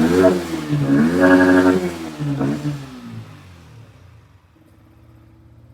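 A Yamaha R15 V4 motorcycle fitted with a high-performance air filter revs twice, then drops back to a steady low idle. The engine is close and loud.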